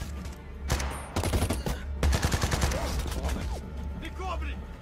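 Rapid bursts of gunfire ring out in a battle scene from a dubbed action film, with repeated sharp shots and volleys, while voices sound in the background.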